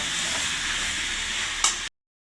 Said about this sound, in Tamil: தக்காளியை போட்டு நல்லா வதக்குங்க.